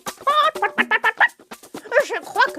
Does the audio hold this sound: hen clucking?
yes